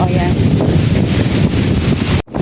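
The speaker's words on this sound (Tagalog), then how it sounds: "ang lakas naman ng hangin dito" Strong wind rumbles and buffets the microphone in a continuous loud rush over a peanut and string bean field, cutting off abruptly near the end.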